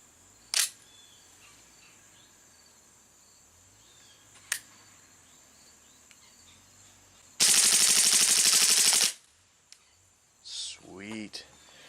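An airsoft Magnum Research Desert Eagle L6 pistol fires a fast full-auto burst of about a second and a half, loud and close, after two earlier single sharp cracks, with a few clicks and handling noises afterward.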